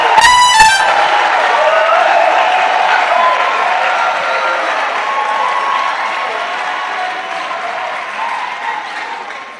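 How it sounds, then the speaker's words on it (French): A church congregation gives a loud, sustained acclamation of applause and cheering with shouts, beginning with a brief horn-like blast and holding steady before easing slightly toward the end. "Offrons l'acclamation à Jésus-Christ."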